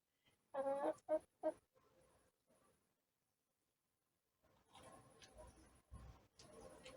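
Chickens cluck nearby in short bursts, a few close calls early, then quieter scattered clucks and scratching after a silent gap.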